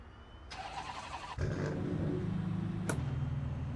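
A GT3 race car engine in Assetto Corsa EVO idles and then revs up as the car pulls away, a steady mid-pitched drone that rises in volume and stays close and moderately quiet.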